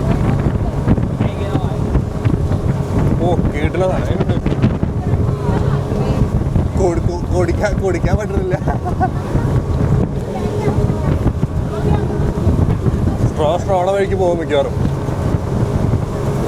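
A boat ride off Phu Quoc, with strong wind buffeting the microphone over a steady engine and water rumble, while people talk intermittently close by.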